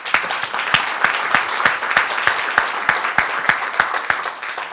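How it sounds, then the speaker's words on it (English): Audience applause at a public conversation event with the mayor, a steady sustained clapping from a crowd with sharp individual claps standing out through the wash, no talking over it. "You may applaud."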